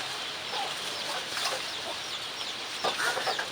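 A chicken clucks softly again and again in a noisy outdoor setting, with short scratchy calls scattered through a constant background hiss.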